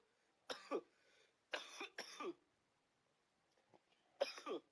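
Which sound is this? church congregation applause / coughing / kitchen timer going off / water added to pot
coughing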